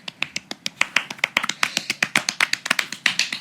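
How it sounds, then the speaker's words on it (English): Sharp, hard hand claps come in a fast, uneven burst of about two dozen loud, close strikes with no other sound. "Aggressive clapping"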